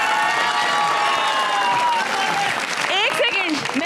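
Studio audience applauding with broadband clapping throughout a Pakistani Eid TV show as film star Resham is welcomed, steady and loud, with a sustained tonal voice or music line over it and a sweeping whistle-like sound near the end.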